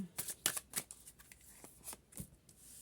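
Several quick papery riffles and flicks of cards being shuffled close by, in short uneven bursts with small pauses between.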